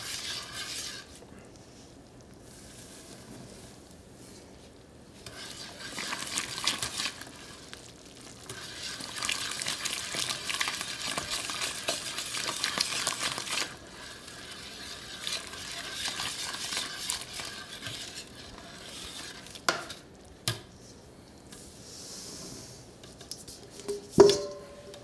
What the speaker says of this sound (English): You want to stir in batches